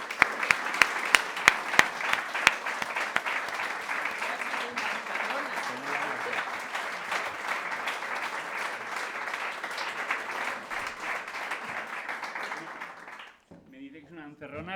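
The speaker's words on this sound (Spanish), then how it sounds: "Un aplauso." An audience at a religious freedom awards ceremony claps steadily for about thirteen seconds, the sound dense and sustained before fading out abruptly into quiet.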